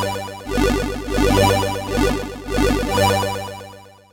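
An 8-bit synth lead with a longer release plays a rhythmic run of chiptune notes that ring out and overlap, with bright square-wave harmonics in short phrases and no voices.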